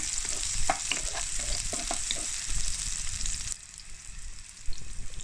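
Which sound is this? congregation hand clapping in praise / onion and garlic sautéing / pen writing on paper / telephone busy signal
onion and garlic sautéing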